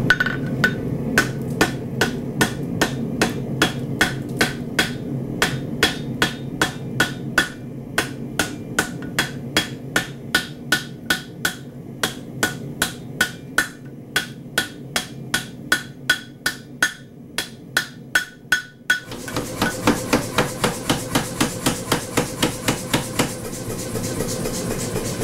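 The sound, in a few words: blacksmith hand hammer striking on anvil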